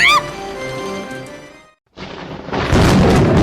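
A cannon-blast sound effect from the Umineko visual novel follows a short musical phrase and a moment of near-silence, bursting in as a loud, broad roaring boom that holds to the end.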